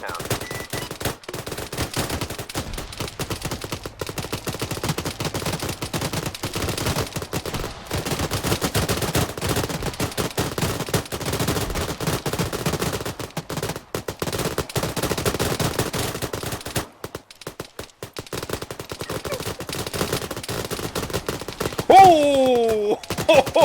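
Gunfire in the video game Arma 3 crackles in rapid bursts and scattered single shots throughout, dense and fairly loud, with a brief swooping tonal effect near the end.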